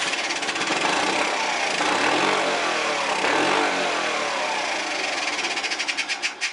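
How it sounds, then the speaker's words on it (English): Honda Passport C70 motorcycle engine running rough and rich just after starting, a loud, close, continuous buzzing drone that surges unevenly and begins to stumble and pulse near the end, heard alone. "Well, it fires up."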